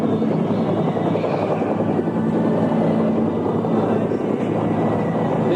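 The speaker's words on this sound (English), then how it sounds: "was interrupted by 2 Israeli Cobra helicopters" Two Israeli Cobra military helicopters heard as a steady, loud rotor drone with low pulsing thump, continuous throughout with no gaps.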